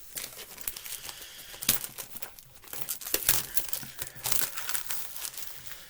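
Cardboard and plastic packaging of a Google Nest Mini box being opened, with crinkling and tearing in irregular bursts, close up and fairly loud, no talk.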